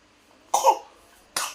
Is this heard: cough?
yes